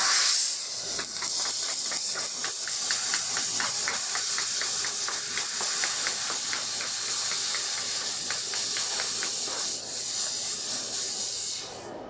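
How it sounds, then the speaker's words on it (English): A fiber laser cutting machine fly-cutting 1 mm stainless steel gives off a steady, loud hiss for about eleven seconds, broken by a fast, regular train of short pulses with each rapid pierce, and then the hiss cuts off at the end. "What our engineer shows us is a 1 millimeter stainless steel with a fly cutting process"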